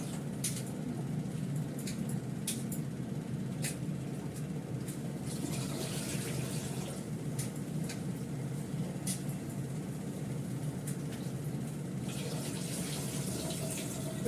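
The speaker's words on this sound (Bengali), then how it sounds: "চোখলাটা ছাড়িয়ে একবার আলুটা ধুয়ে নিয়েছিলাম, তাও ধুয়ে নিলাম" A kitchen tap runs steadily as potatoes are washed, a continuous close splashing hiss with small irregular clatters and no talking.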